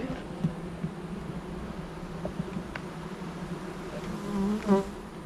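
Bees buzz at a beehive in the Saône marsh, a steady close hum with individual insects passing nearby and swelling briefly near the end.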